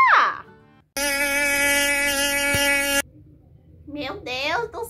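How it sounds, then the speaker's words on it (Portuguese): A mosquito buzzes loudly and close in a steady high whine lasting about two seconds, set between brief bursts of sound before and after. "Meu Deus do céu, um mosquito, gente."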